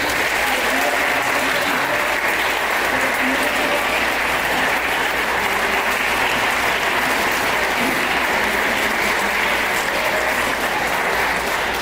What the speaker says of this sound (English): Beautiful round of applause for both of them up here on stage.